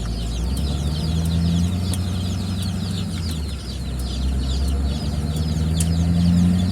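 Meat bird chicks kept in a warm brooder cheep continuously in a busy, overlapping chorus of small high peeps over a low steady hum of equipment, with no voices.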